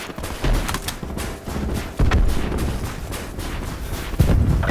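Call of Duty: Black Ops 4 team deathmatch on Nuketown, with a frag grenade blast amid sustained rapid gunfire: loud, dense bursts of shots and booming impacts continue throughout without a break.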